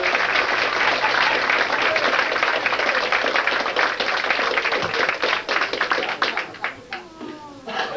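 An audience at a live stage show claps in a dense, steady burst that gradually thins and breaks into scattered individual claps toward the end, with a few faint voices underneath.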